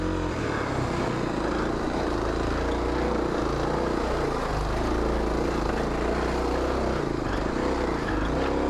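A Kawasaki KLX 250 dirt bike ridden on a single-track trail, its engine droning steadily and loudly close by with no break and no talk.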